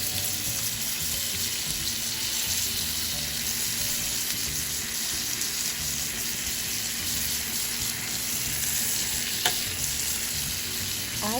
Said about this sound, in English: Now we flip our salmon over and we're going to cook this side for about 4 minutes.